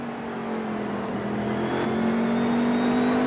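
A cherry red race car's engine drones steadily on track in the YesterYear IROC Series at Thompson, its pitch rising gradually as it accelerates, loud and sustained.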